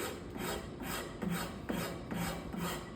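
A wood rasp files a wooden leg in steady back-and-forth strokes, about six rough rasping passes in three seconds, close and fairly quiet with no voices.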